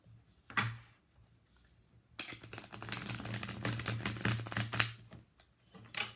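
Tarot cards are shuffled up close in quiet bursts: a brief riffle early on, a pause, then several seconds of rapid, papery flicking and tapping that fades out.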